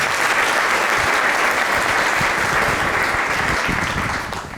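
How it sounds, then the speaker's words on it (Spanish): A congregation claps during a Christmas church service, a thick and sustained round of applause from many people that fades slightly at the end. "Le damos un aplauso a Dios por eso."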